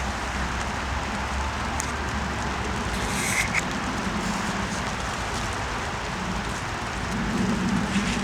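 Steady rain falls throughout an outdoor memorial ceremony, a continuous broadband hiss of drops on surfaces with no clear speech, holding an even level from start to finish.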